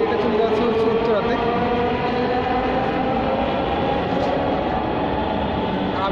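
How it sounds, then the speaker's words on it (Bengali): Dhaka Metro train pulling out of Farmgate station, a steady loud rumble and whine of the departing cars that holds through the clip, with someone talking over it. "এই যে এখন এই ট্রেনটা আবার এখান থেকে ছেড়ে গেছে, এটা চলে যাচ্ছে হচ্ছে উত্তরাতে।"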